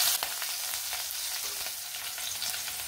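Finely chopped garlic and green chilies fry in hot oil with asafoetida in a pan, a steady close sizzle crackling throughout with a few light stirring clicks, no voices.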